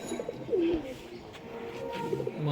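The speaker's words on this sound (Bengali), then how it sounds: "মেন ধাড়ি পায়রা দাদা।" An adult Fullshira pigeon gives short low coos at a home loft, moderately close, over steady background hiss, with no talk.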